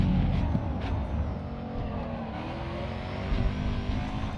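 Zenvo ST1 supercharged and turbocharged twin-charged supercar engine racing in Grid 2, a loud steady engine roar with shifting pitch as it revs, and faint tire noise underneath.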